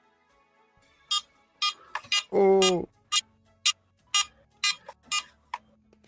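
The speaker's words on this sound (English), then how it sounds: "It just beeps because of the Tiger Electronics one" A Tiger Electronics handheld Pokémon game gives out a run of short, sharp electronic beeps in an uneven pattern, along with one longer buzzing tone, while a voice briefly exclaims.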